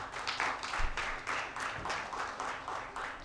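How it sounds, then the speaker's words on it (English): Audience at a learning and development summit and awards ceremony gives a steady round of clapping for an award presenter, moderately loud with slightly rhythmic pulses and no talk over it. "Can we have a round of applause for Mr."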